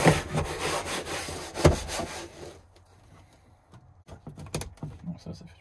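A long-used brush scrubs hard against a surface while cleaning an abandoned Barbie-pink Renault Twingo, with loud rough rasping strokes for about two and a half seconds, then a pause and a few shorter scrapes.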